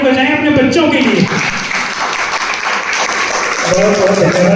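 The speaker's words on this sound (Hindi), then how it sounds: "हम लोग मिलकर के तालियां बजाएं अपने बच्चों के लिए" An indoor audience at a Ghaziabad Anuvrat Samiti gathering claps continuously for the children, a dense, sustained round of applause with a voice speaking over part of it.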